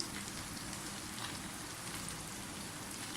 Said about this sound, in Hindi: आलू को हम फ्राई करने रखे हैं।